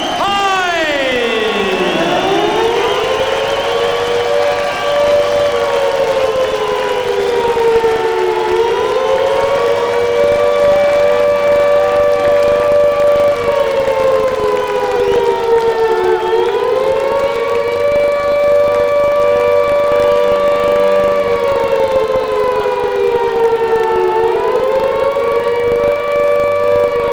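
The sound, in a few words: sirens sounding at boxing ring entrance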